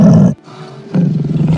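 A lion gives a loud, close roar that breaks off abruptly, then, after a brief lull, a second deep roar swells back in and holds to the end.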